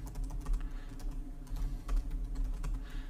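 Steady clatter of keys on a computer keyboard as PHP code is typed, a continuous run of quiet, close keystrokes with no talking.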